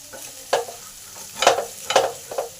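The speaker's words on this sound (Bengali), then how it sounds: "মশলাটাকে একটু ভালো করে কষে নেব।" Spice paste being stir-fried in a pan for a vegetarian potato and pointed gourd korma, with a steady low sizzle and several sharp scraping strokes of the spatula, close and alone.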